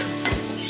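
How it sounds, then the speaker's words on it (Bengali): Onions sizzle steadily in a hot pan during home cooking, a soft continuous frying hiss with one brief stirring scrape partway through. "পেঁয়াজগুলো ভাজা হোক"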